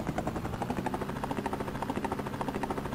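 Helicopter in the Amiga video game Rescue, a steady rapid rotor chop pulsing evenly throughout, loud and alone.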